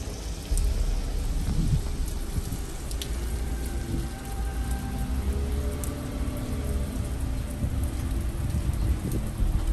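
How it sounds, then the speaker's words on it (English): Heavy rain pours steadily outdoors during Hurricane Milton, a dense continuous roar with low rumbling wind and occasional distant thunder. "It is raining out."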